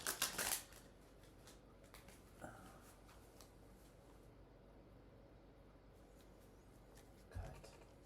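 Tarot cards shuffled close up, a dense papery riffle at the start, then quiet handling with soft taps and another brief riffle near the end.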